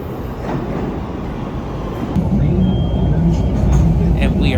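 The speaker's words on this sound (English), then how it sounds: "And here comes our train. This line mainly uses the 5000 series trains, which were built by Bombardier" A Chicago L 5000 series Bombardier train rolls into the station, a heavy low rumble that grows louder, with faint squeals from the wheels and brakes.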